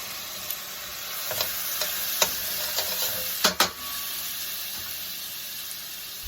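Two cloves of chopped garlic sizzle in a hot pan with a steady frying hiss, broken by a few light utensil taps and stirring scrapes near the middle.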